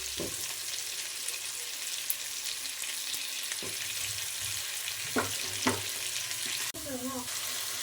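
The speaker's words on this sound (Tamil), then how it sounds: "இஞ்சி பூண்டு பேஸ்ட் போட்டதுக்கப்புறம் 4 தக்காளி வெட்டி வச்சுருக்கோம், அது போட்டுக்கலாம்" Chopped tomatoes frying with ginger garlic paste in a pan, a steady loud sizzle with a few stirring clinks and light knocks.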